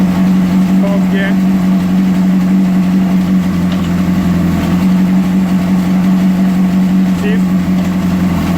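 A 2003 Honda CBR600RR motorcycle engine running steadily at close range, with a loud continuous drone and slight rises as it shifts through the gears.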